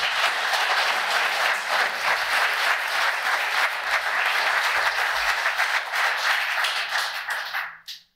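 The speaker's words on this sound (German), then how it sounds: "Jetzt kriegen die mal einen Applaus, oder?" Warm audience applause at an event honouring the runners of the year 2022, a dense, sustained round of clapping that holds loudly for several seconds before fading out quickly at the end.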